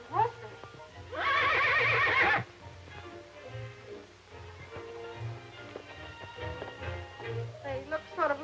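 Gentle saddle horses, readied for a three-hour mountain ride in a 1933 film, give a loud, drawn-out whinny near the start, then hooves clop softly and rhythmically under muted voices.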